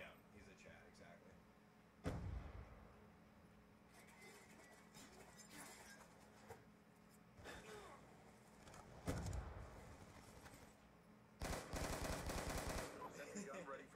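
Mounted turret machine gun in Modern Warfare 2 (2009) online multiplayer at night, firing in several loud bursts near 2, 9 and 11.5 seconds over steady game noise and low background voices.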